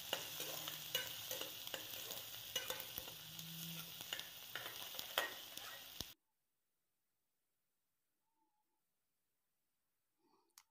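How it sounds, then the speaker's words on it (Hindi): Chopped onion fries in a pan with a continuous crackling sizzle and scattered stirring taps for about six seconds, then near silence follows. "अब इसमें कटा हुआ प्याज डाल देंगे प्याज को थोड़ा सा पकाएंगे इस तरीके से"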